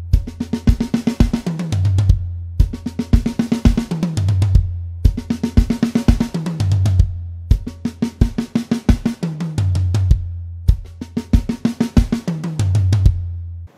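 A drum pattern from a song repeating in bar-long phrases, each ending in a quick fill rolling down across snare and toms, loud and close with no voices.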